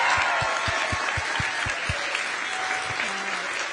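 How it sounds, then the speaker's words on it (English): Applause from the audience at a Kamala Harris campaign event in Malvern, Pennsylvania, dense and continuous throughout, with a few prominent low thumps punctuating the first two seconds. "let's give them another round of applause."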